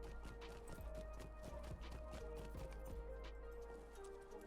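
A horse's hooves clip-clop at a steady rhythm in The Lord of the Rings Online, faint under a low game background hum and soft music tones.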